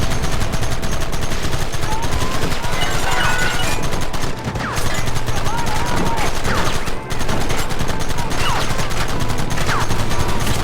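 Loud, relentless gunfire in a Red Dead Redemption battle with cavalry and a runaway wagon, rapid overlapping shots crackling together in a dense volley with barely a pause.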